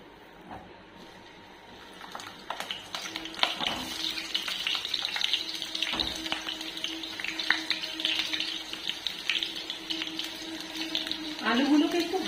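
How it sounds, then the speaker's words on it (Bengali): Potatoes go into hot oil for a chicken broth, and a crackling sizzle builds up and continues steadily, with someone talking over the frying. "আলুগুলোকে একটু হালকা করে ভেজে নেব"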